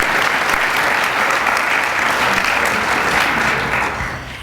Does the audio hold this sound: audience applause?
yes